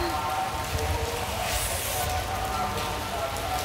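Rain pours steadily on pilgrims queuing for darshan at Tirumala, a dense hiss of drops on surfaces throughout, with people talking faintly in the background.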